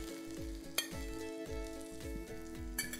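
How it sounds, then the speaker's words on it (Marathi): Rice flour ghavan sizzles in a pan as oil is poured along its edges, with a crackling fry over a rhythmic low thumping and a couple of sharp clicks. "आता याच्या कडेने तेल सोडूयात."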